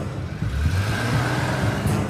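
A car engine runs steadily and close by, its low rumble holding even throughout with no voices over it, like a vehicle pulling away and driving off.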